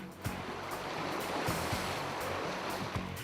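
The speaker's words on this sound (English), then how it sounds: "crossing an icy, glacier-fed river" Icy, glacier-fed river rushing in a steady broadband wash with no pauses, close and fairly loud, with a few low thumps mixed into the flow.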